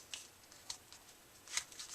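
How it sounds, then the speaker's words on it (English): Score tape being peeled off a mini album cover in a few short, crisp tearing bursts, close and quiet, with near silence between pulls. "I'm going to pull all these off."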